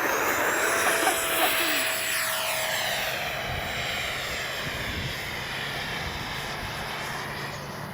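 FMS F-16 64mm electric ducted-fan RC jet flying past in windy conditions, a steady whooshing whine that fades and shifts pitch as it moves away, heard alone from the ground.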